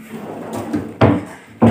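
A large wooden drawer, built in an IKEA style, slides and knocks shut twice, with a soft scrape before the first sharp thud and a second close knock at the end, near and loud.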